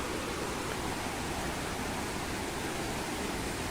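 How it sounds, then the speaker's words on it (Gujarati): Heavy rainwater rushes along a tractor track road during a cloudburst downpour in Junagadh, a steady, dense, unbroken roar of water that stays close and loud throughout with no voices. "ફૂલ પાણી જાય જો આમ તમે જોવો તો ખરી ભાઈ"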